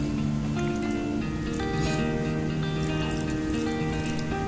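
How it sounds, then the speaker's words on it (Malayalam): Wet, squishy hand-mixing of masala into raw chicken, a steady close squelching with a faint tonal hum behind it and no speech. "ഞാൻ മസാല നന്നായിട്ട് ഇതിൽ മിക്സ് ചെയ്തെടുത്തിട്ടുണ്ട്"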